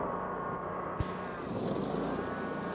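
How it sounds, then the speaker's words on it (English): An Iseki SRA 800A two-wheel-drive riding-on mower engine, heard from nearby, revs up from a steady run to a louder, brighter drone that holds for a couple of seconds with no voices. "So we're going to rev it up."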